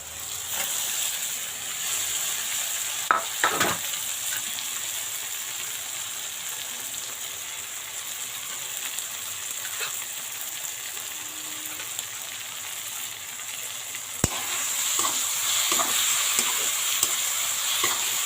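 Onion, tomato and green chili with grated ginger and garlic sizzle steadily in a pan, with a soft continuous frying hiss, occasional scrapes and knocks of stirring, and no talking.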